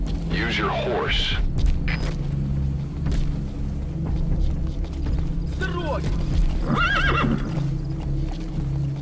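A horse neighs twice in Metal Gear Solid V: The Phantom Pain, loud and close, over a steady low rumble and clip-clopping hooves.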